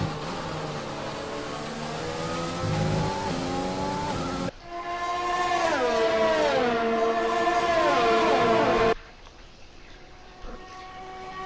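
Formula 1 car engines in the F1 2020 video game at the Belgian Grand Prix, a loud high-pitched engine whine sweeping up and down through gear changes, with abrupt cuts between onboard views.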